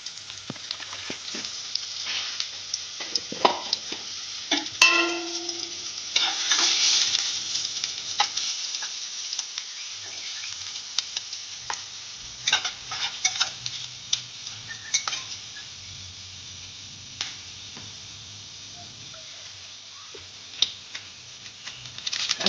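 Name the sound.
dried red chillies frying and being stirred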